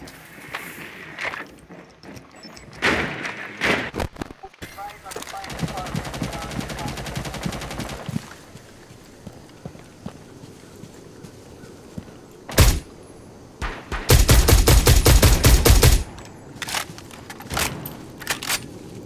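Gunfire in Rainbow Six Siege during a House team deathmatch, with scattered single shots early and two loud bursts of rapid automatic fire later, amid footsteps and game noise with player voices.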